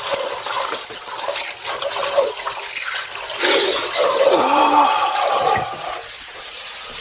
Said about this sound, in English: Wash our hands, get our stuff clean.